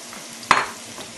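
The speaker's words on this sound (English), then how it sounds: "we preheated up about a half a cup of olive oil, and in that we're going to add the cup of celery, half a cup, and half a cup of onion" Celery and onion dropped into preheated olive oil give a single short burst of sizzling and spatter that quickly fades back to a quiet, low hiss.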